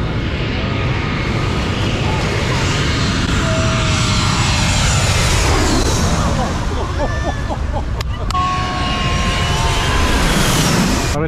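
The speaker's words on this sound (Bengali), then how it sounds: "আমাদের মাথার ওপর দিয়ে যাবে প্লেনটা" A small commuter propeller airplane passes low overhead near a runway on an island, its engine roar loud and sustained as it sweeps across, with people talking nearby.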